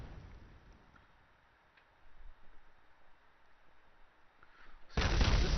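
Parts blowing up in modded Kerbal Space Program: a low rumbling stretch gives way to a sudden loud, booming blast near the end that fills the sound.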